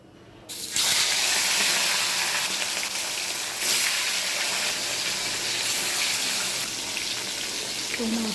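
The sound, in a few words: rohu fish frying in hot oil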